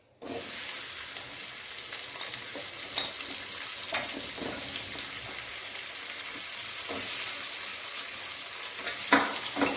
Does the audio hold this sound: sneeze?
no